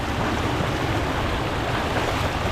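Floodwater rushes past in a steady, dense roar, a continuous broadband wash of turbulent water at a river crossing, with no voices over it.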